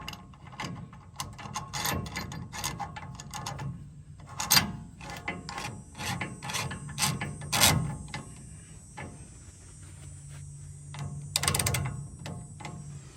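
A socket wrench works a part off the axle of a 2001 Ford F350 Super Duty, giving sharp, close clicks and metallic clatters in uneven bursts, with quieter rattling and short pauses between them and no speech.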